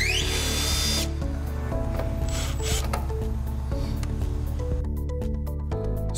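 A power tool whines and buzzes steadily up close, pitch wavering and stopping briefly, while it removes bolts holding an OMTech CO2 laser engraver to its shipping crate, with no speech.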